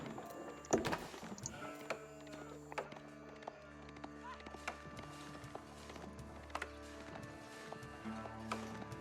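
Sheep bleat softly while being gathered in a strategy video game, with faint intermittent bleats over quiet game ambience and light clip-clop-like taps.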